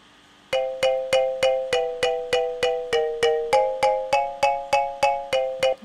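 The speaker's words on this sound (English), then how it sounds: "that's an interesting piece that only has just one instrument playing, a sort of marimba or xylophone-y kind of sound" A solo marimba- or xylophone-like melody strikes steady, evenly spaced bright notes with short decays, playing alone and clearly up front.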